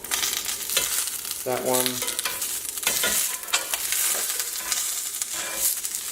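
Mirin-glazed chicken sizzles and crackles steadily in a hot cast iron pan, a loud continuous fry with a few stirring knocks and a brief spoken remark.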